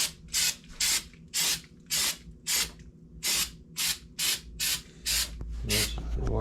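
Repeated aerosol spray-can bursts on a Lexan RC car body, about ten short hissing blasts in a steady rhythm, close and clear, ending in a longer continuous spray.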